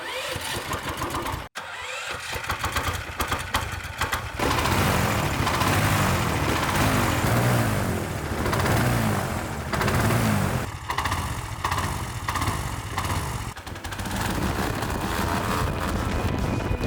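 A homemade airboat built from an ordinary inflatable boat fitted with an air-propeller kit roars loudly and continuously throughout the ride, its engine note steady and close with brief dips.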